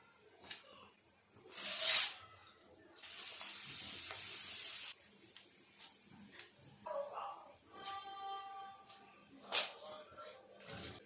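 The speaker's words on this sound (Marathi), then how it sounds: "मिरच्या ना छान तळल्या गेल्या बघू शकता" Slit green chillies frying in hot oil for a vada pav red chutney. Loud bursts of sizzling and spattering come and go over quiet stretches.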